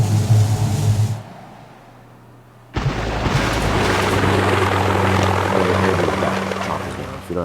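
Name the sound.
helicopters flying in Boom Beach video game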